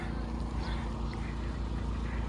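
A small generator running during a power outage in Kyiv, a steady low droning hum with a harmonic buzz at a constant level, heard outdoors as a continuous background motor.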